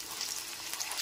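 Chopped capsicum, carrot and beans fry in hot oil in a pan for vegetable chowmein, giving a close, steady sizzle with soft crackling throughout and no talk.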